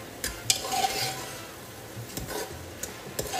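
Onions frying in a pan for Goan pork vindaloo, a quiet close sizzle broken by a few soft scrapes and taps of a spoon stirring, with no talking.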